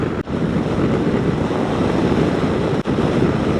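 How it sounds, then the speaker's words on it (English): Loud, steady wind buffeting across the helmet microphone while riding a 2021 Honda NC750X motorcycle, a continuous roar with two brief dips, no voices. "And there's the wind again."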